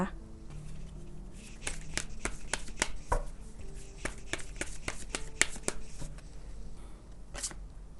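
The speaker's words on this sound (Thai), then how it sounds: "ต่อไปแม่หมอเปิดไพ่ออร์โคลเสริมให้นะคะ" A deck of oracle cards is shuffled by hand nearby with steady riffling and sharp flicking snaps. A soft speaking voice runs underneath.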